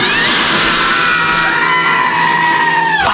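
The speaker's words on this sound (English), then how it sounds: "Why is everyone screaming?" Several people scream and yell together in a loud, sustained, overlapping chorus of strained high voices, near and harsh, cut off by a sharp bang at the end.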